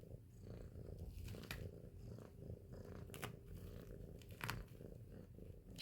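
A sick cat purring steadily up close, a continuous low rumbling drone with soft rhythmic breathing pulses and a few faint clicks.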